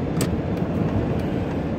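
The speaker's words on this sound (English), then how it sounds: "let this car pass me" On the road beside a traveling van, a passing car gives a steady, loud rumble of tires and engine with a few faint ticks over the top and no talk.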